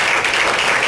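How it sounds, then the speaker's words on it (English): Audience applauds after a dance demonstration at a USA Dance chapter event, a brief, dense burst of clapping heard close and loud. "Let's give them a nice round of applause."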